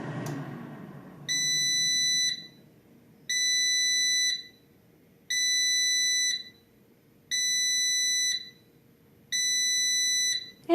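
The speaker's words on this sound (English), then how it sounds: "there are the 5 beeps to signal that the cycle is finished" A Power AirFryer XL sounds five evenly spaced, shrill electronic beeps to mark the end of its cooking cycle, each about a second long and separated by brief quiet gaps, close and clear.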